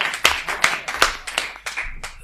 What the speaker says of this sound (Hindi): जोरदार तालियां बजाकर आमंत्रित करें